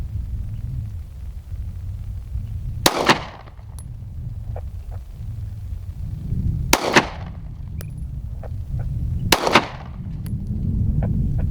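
Three sharp gunshots fired at targets in the desert, spaced several seconds apart, each a loud crack with a rumbling tail echoing over steady low background noise.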